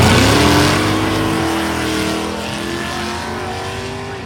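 A Chevrolet Bel Air makes a drag strip run at a Michigan dragway. Its loud engine roar comes up close, then the pitch sweeps down and the sound fades as the car pulls away.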